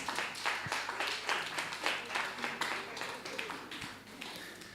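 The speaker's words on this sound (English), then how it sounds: "Give him a round of applause," An audience at a talk on reggae publishing and royalties gives a round of applause, a dense wash of clapping that swells and then thins out toward the end, heard from a moderate distance.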